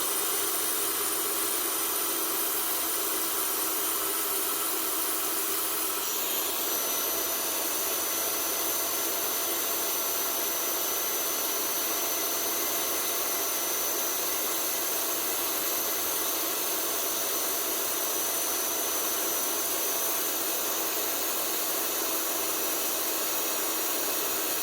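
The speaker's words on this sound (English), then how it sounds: "I'll grind down these here little bumps and ridges and just remove the hammer actually completely." A grinder works steadily on a Makita cordless combi drill part stuck in hammer mode, wearing down its small bumps and ridges. The high-pitched whine runs continuously at close range, with a slight shift in tone early on and no voices.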